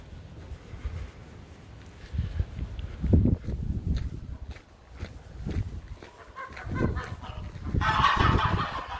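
Geese honk in a farmyard courtyard beside old outbuildings, repeated close nasal calls in bursts with some footsteps, and a brief hiss of noise near the end.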